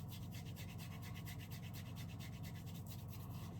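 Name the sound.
rubbing shaving gel into a lather on the neck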